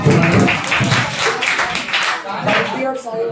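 An audience at a Saraswati Puja award ceremony claps to welcome a student, with dense, steady, fairly loud applause and a voice talking over it.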